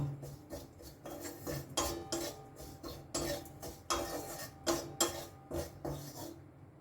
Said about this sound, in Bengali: এটা দিয়ে ভালো করে আমি মিশিয়ে নেব